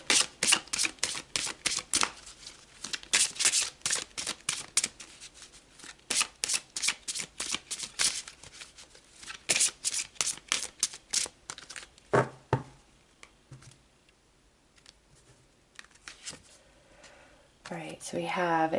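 Tarot cards being shuffled by hand, a long run of rapid crisp riffling flutters close to the microphone, thinning into a few softer card slaps and handling sounds toward the end.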